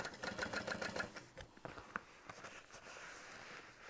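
A sewing machine topstitching through a flattened bag seam rattles in a quick, even burst at close range, then slows to scattered soft clicks and fabric handling.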